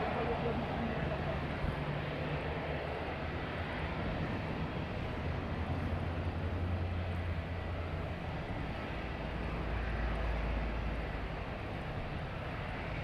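An airplane landing at Madeira Island Airport in windy weather, a steady distant engine roar mixed with wind rumble throughout, with a person talking over it.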